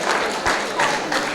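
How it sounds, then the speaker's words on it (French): Wedding guests at an evening reception applauding the couple, a short, dense patter of clapping with a few louder swells, close and fairly loud. "on les applaudit très fort pour couple à l'honneur"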